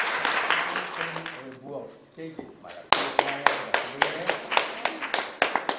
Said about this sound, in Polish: Gorące brawa.